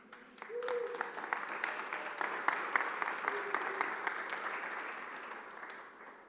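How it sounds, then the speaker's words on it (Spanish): An audience applauds at a church gathering, a sustained wash of clapping that swells quickly and holds steady before tapering slightly, with a few voices calling out beneath it. "Como dice el pastor Felipe, es bueno que aplaudan porque me da tiempo para tomar agua"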